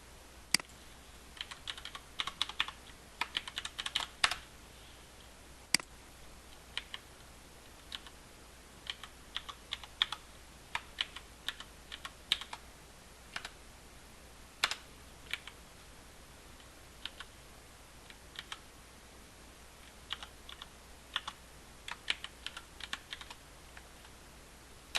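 Computer keyboard typing, with quiet scattered key clicks in irregular bursts and short pauses, close and faint against a near-silent room.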